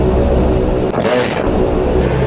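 Turboprop engines of a Lockheed Hercules L100 heard from the cockpit during a run-up before takeoff, a loud, steady droning roar with a brief rising surge in the middle.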